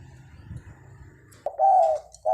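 A spotted dove decoy bird coos twice in clear, loud, mellow notes after a quiet stretch of faint background rustle.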